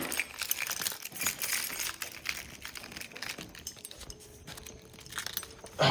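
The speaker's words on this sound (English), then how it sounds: "Let me grab the keys real quick." Keys jangle and clink near the mic as they are grabbed while installing a Pioneer AVH-3500NEX head unit in a two-door Tahoe, a bright metallic rattle in scattered bursts over about six seconds.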